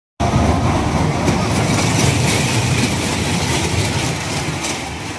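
A passing train makes a loud, steady rumbling roar that starts abruptly and holds for several seconds before easing slightly, close to the listener.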